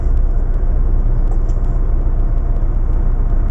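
Old race truck with a 9.5 litre straight-six diesel rumbling steadily and loudly up close, a continuous deep engine drone without any talk.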